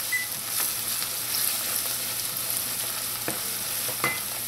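Garlic, onions and hot pepper fry in a pan over medium heat with a steady close hiss, broken by a few sharp clicks and scrapes of stirring.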